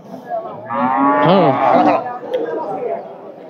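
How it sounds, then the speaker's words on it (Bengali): A native dairy cow at a busy cattle market lets out a long, loud, close moo, with crowd chatter and voices behind it. "এটা চমৎকার গরু"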